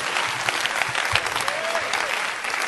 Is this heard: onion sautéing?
no